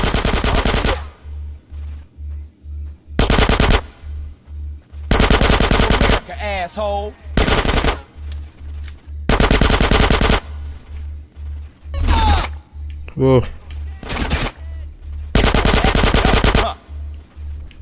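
Automatic gunfire in Grand Theft Auto San Andreas: loud bursts of rapid shots repeat every second or two, with a low rhythmic thumping beneath and a brief exclamation from a voice between bursts.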